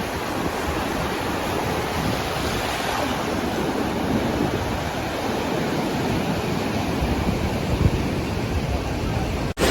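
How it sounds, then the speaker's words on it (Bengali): Ocean waves break on Puri beach in the early morning, a steady wash of surf and roaring foam with some wind buffeting the microphone, loud and continuous. "পেছনের জাস্ট ঢেউগুলো দেখুন"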